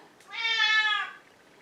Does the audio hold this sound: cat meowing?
yes